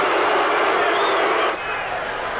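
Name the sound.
boxing crowd reacting with disapproval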